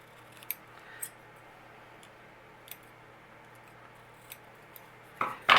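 Paper is cut with scissors in a quiet room, a few sparse, faint snips spread apart, then a louder burst of cutting and rustling at the very end.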